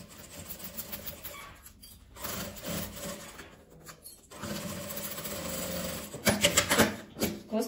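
A sewing machine runs close in short bursts, stitching a seam closed on fabric scraps for a bottle holder, its rapid needle chatter broken by pauses and handling rustles, ending in a few sharp clicks and no speech.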